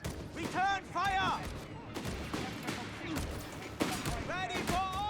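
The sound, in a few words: gunfire in video game Company of Heroes 3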